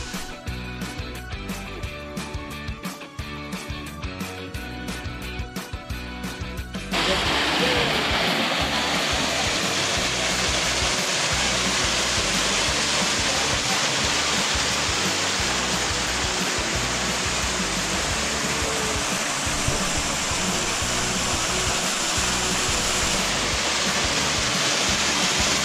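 A small waterfall, El Saltillo at Tapalhuaca, pours out a steady, loud broadband rush of falling water that stays constant once it begins, after a few seconds of other layered sound at the start.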